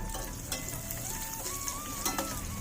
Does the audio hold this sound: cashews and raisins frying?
yes